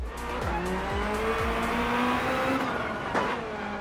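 Toyota GT One GT1 race car at full throttle around the Nürburgring in Gran Turismo 7, engine screaming and rising through repeated upshifts, loud and close, with a brief tire squeal near the end.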